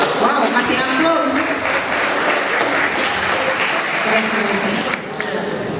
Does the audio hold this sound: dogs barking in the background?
no